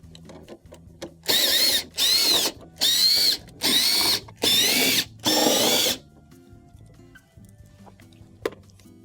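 A powered nut driver backs quarter-inch screws out of an appliance's rear cover in six loud, evenly spaced whirring bursts, each about half a second long with short pauses between, followed by faint handling noise.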